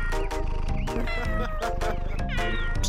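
A cartoon cat, drawn by catnip perfume, meows loudly and repeatedly over busy music, its drawn-out cries rising and falling in quick succession.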